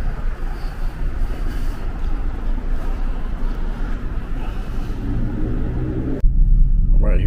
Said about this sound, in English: here's all the cars coming in.